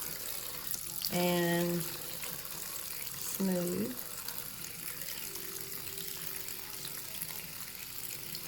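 Water from a tap runs briefly twice onto hands being wetted at a sink, two short splashing bursts over faint background hiss, with someone speaking quietly.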